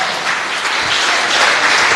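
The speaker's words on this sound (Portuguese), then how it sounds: "Dá uma salva de palmas para Jesus." Dense, steady applause from a large congregation during a prophetic church livestream, a continuous wash of many hands clapping at full volume with no voices over it.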